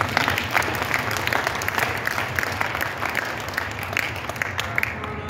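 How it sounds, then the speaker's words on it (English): Steady, dense applause from a crowd at a school basketball orientation, sustained throughout at an even level, with a faint murmur of voices mixed in. "So let's clap it up for that."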